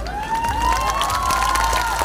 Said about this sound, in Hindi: तालियां तो बनती है